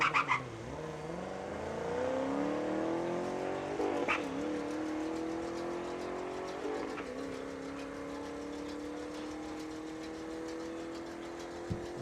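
A 2014 Ford Mustang and a Camaro launch down the drag strip at Saskatchewan International Raceway, engine note rising in pitch through gear changes, heard from a distance at moderate volume with no voices.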